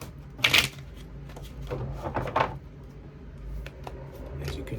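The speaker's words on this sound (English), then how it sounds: "As you can see, shuffling up the cards." Tarot cards riffle and flap in a few short bursts, soft and close, over a quiet background.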